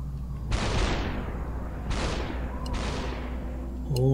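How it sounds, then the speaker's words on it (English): Gunfire from an in-game weapon in the shooter Superhot, believed to be a machine gun: three sharp, loud bursts with long ringing decays, spaced about a second apart, over a steady low background hum. "was that a machine gun?"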